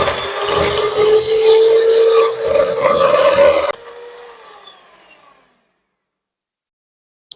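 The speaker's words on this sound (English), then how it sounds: "So the shortening now, I'm going to mix it just a little bit." An electric mixer beats shortening for buttercream icing with a steady, close motor whine and grinding churn for several seconds, then cuts off and spins down into silence.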